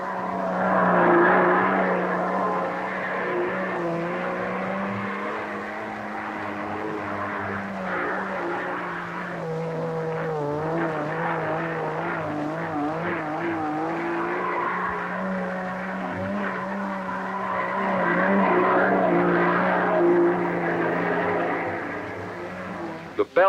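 International trucks run a figure-8 course on a proving ground to test thrust on front wheels and spindles, giving a steady, loud drone of engines and whining tire squeal that rises and falls throughout.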